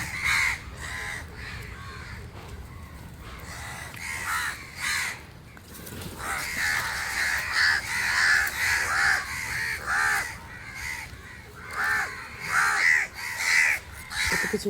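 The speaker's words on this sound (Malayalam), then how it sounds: "കാക്കകളെ ശല്യമാണ് നല്ല." Several crows caw repeatedly outdoors near a spot where fish waste is being cleaned, harsh calls coming in overlapping bursts, some close and loud, others farther off, over a low background murmur.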